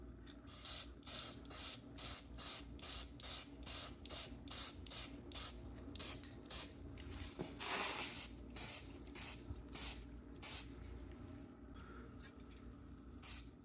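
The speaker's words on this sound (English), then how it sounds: "I gave it a quick wipe down with some Windex" Windex cleaner is sprayed over a 1936 Briggs & Stratton WM engine in a quick, even run of about twenty short hissing squirts. The spray is close and alone, easing into quieter, spaced-out puffs at the end.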